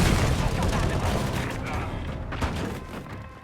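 Grenade and sticky bomb explosions from the video game Modern Warfare 4, a dense run of booming blasts and gunfire that is loudest at the start and tapers slightly, with a sharper burst near the middle and a voice speaking over it.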